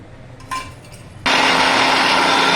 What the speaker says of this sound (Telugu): మొదట మామిడికాయ ముక్కలు గ్రైండ్ చేసుకుందాము